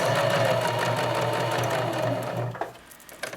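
A sewing machine runs steadily, stitching the front fly of boxer shorts. The close, continuous mechanical whir lasts about two and a half seconds, then stops, leaving a few small clicks.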